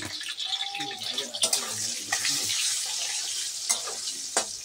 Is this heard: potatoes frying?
yes